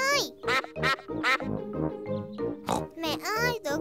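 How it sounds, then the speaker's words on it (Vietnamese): Cartoon ducks on a pond in a Peppa Pig episode give a rapid series of loud, nasal quacks, one after another at close range. "Trên kia có mấy chú vịt đang bơi."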